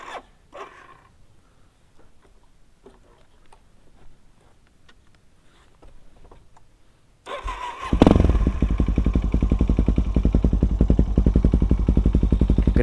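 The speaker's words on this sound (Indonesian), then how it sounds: "Dan mungkin sekarang kita coba cek sound knalpotnya." A Suzuki DRZ 400 supermoto's exhaust idles quietly at first, then is blipped into a loud, close, steady revving drone with rapid pulsing firing beats.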